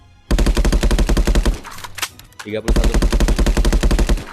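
Rapid automatic rifle fire from a realistic VR first-person shooter game, loud close bursts in two long runs broken by a short pause with reload clatter and a voice speaking in between.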